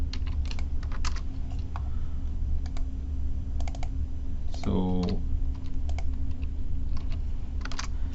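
Rapid, uneven clicks from a computer keyboard, close and clear over a steady background hum, with a short voiced sound partway through.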